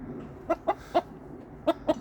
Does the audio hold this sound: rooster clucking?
yes